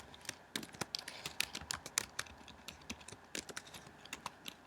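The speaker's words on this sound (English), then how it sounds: "So I'm going to type my password now." Rapid, uneven keystrokes on a computer keyboard as a password is typed to log into a Linux system, a dense run of close, crisp clicks with no voice.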